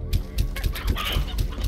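Chickens in the ranch game Slime Rancher cluck in quick, rhythmic bursts, loud and close, with no talking over them.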